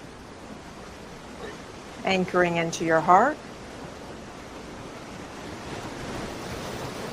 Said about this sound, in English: Maybe tuning in to where the waves are crashing